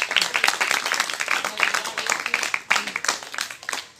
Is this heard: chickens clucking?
no